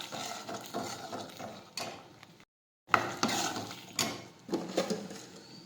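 A spoon stirring spices into a pan of green urad beans, with repeated scraping and clattering strokes of the utensil against the pot, broken by a brief silent pause midway, close and fairly quiet.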